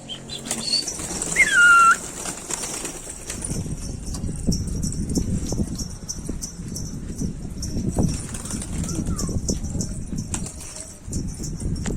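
Pigeons' wings flap repeatedly as the birds take off and circle, a busy fluttering texture with occasional cooing and chirps, moderately close and continuous.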